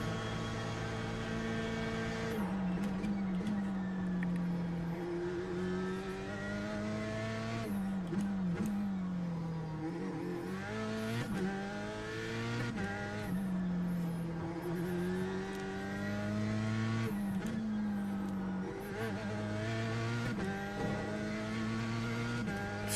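An F3 race car engine in iRacing howls steadily through laps, its pitch rising through the gears and dropping on downshifts, loud and continuous with no talking.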